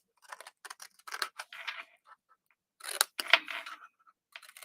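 Scissors snip a craft piece in half with a series of close, crisp cuts in two clusters separated by a short pause.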